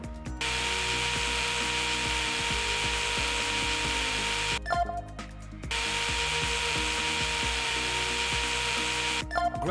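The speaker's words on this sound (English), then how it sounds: "Now I can use the bone saw to resect the tibial plateau." Buzzing power-saw drone of a virtual bone saw resecting the tibial plateau in a VR total knee surgical simulator, running steadily, cutting out briefly near the midpoint, then resuming before a final short break.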